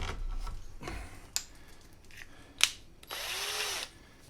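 Power sander lightly smoothing scrap redwood and pine pieces for floating shelves, heard as short intermittent whirring bursts with a sharp knock and a longer final run, close up and without talking.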